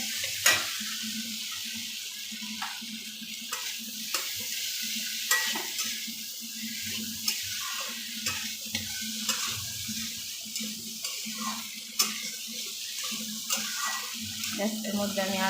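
Asafoetida and a splash of water are stir-fried in a pan for a Bengali chickpea and pea dish, with a soft, quiet sizzle and repeated spatula scrapes and taps, while a voice speaks at times.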